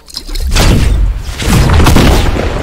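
Two heavy booming shotgun blasts from a combat shotgun in a video game, loud and close, each with a short rumbling tail, about a second apart.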